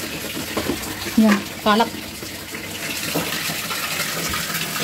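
Water from a tap rushes steadily into a small children's swimming pool outdoors, a continuous hiss and splash that runs throughout, with a voice speaking briefly over it.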